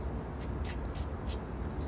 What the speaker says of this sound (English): you're gonna come in with the spray